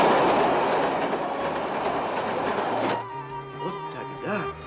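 A train rumbles past with a dense clattering roar of rail cars that drops off partway through, leaving quieter humming and tonal squeals as it moves away.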